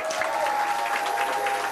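A church audience applauds at a baptism and testimony service, dense steady clapping filling the whole brief moment without voices over it.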